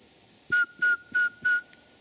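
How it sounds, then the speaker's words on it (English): A person whistles outdoors in a mountain forest: four sustained, steady notes of equal pitch, each about a quarter second long and evenly spaced, then a faint short fifth, close and clear over a quiet woodland background. "I'm going to whistle."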